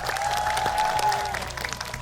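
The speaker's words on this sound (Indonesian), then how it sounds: "kita berikan tepuk tangan buat kedua keluarga" A studio audience on an Indonesian TV cooking contest claps for two competing families, a moderate, fairly distant patter of hands under a steady tonal hum.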